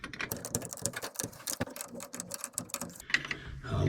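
Stock bolts being ratcheted in on a 1941 Chevy 216 engine during rear main seal work, with rapid close ratchet clicks in quick bursts and brief pauses.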